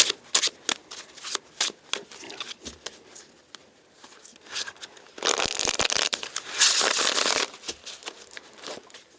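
Tarot cards are shuffled by hand in repeated riffling bursts with short pauses, closing with a longer, denser stretch of rapid card flutter, close and clear with no talk.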